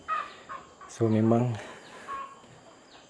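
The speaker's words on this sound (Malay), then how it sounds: "nice lah dengar bunyi ayam lagi kat luar." A chicken clucks outside at a traditional Malay-style kampung resort, one loud drawn-out call in the middle with fainter calls around it, heard alongside a person speaking briefly.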